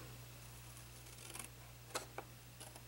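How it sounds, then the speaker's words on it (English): Scissors cut the corners out of a paper favor box, a few quiet close snips and crisp paper clicks spaced apart over a steady low hum. "And I'm going to cut the corners out"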